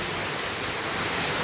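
Heavy monsoon rain pours steadily in a village, a dense continuous hiss without breaks or voices.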